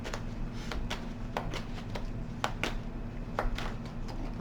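Soft, quick riffling of cards being shuffled, a series of light flutters and taps over a low steady background hum.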